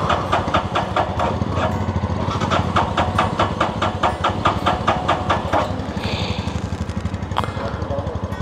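A vehicle engine, just started for a road trip from Chandigarh to Narkanda, runs in a steady idle with a fast regular pulse, close and fairly loud. It holds constant throughout with no talk over it.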